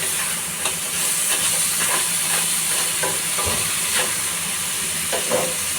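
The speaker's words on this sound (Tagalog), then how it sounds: "Ito ay ukay-ukayin para ma-mix." Upo (bottle gourd) being stirred in a cooking pan, a steady steamy hiss and sizzle with scattered scraping stir strokes, close and continuous with no talk.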